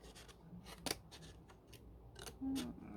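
Scissors snip through paper while a peek-a-boo pocket is cut out for a junk journal, with a few quiet separate cuts and rustles followed by a longer, louder slicing stroke near the end.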